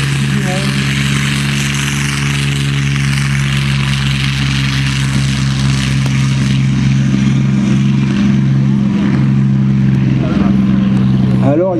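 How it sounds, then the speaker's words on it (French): Loud, steady drone of a vintage propeller warplane engine on takeoff at the La Ferté-Alais airshow, a strong low hum that swells slightly toward the end, with someone talking over it. "au décollage, voilà l'avion que si je gagnais au loto, je l'achète"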